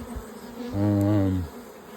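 A single honeybee buzzes loudly past an open, crowded hive during an inspection, a close droning hum that swells and fades in under a second.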